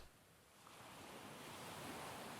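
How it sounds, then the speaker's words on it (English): Distant ocean waves wash in a soft, steady hiss under moonlight, faint and continuous with no distinct breaks, in a game scene. "The waves gently crashed and fell in the distance"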